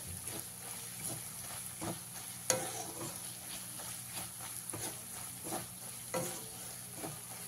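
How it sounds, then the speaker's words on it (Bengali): Ground Kashmiri chili, coriander and cumin powders are fried in oil for a Bengali pointed gourd korma, producing a soft, quiet sizzle with repeated spatula scrapes at intervals. "মশলাগুলো দিয়ে খুব ভালো করে ভেজে নিতে হবে।"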